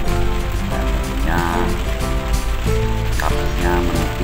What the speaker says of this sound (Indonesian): Hujannya memang sangat luar biasa sekali.